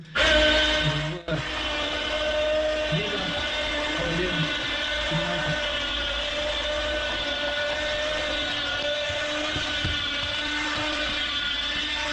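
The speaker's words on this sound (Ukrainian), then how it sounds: "нажимаємо волшебную кнопочку і ліфт поїхав" A modified potato planter's crate lift, loaded with five crates, runs with a steady mechanical motor drone and hum, moderately loud and continuous, with a few knocks and clunks early on.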